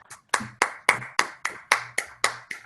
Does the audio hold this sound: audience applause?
yes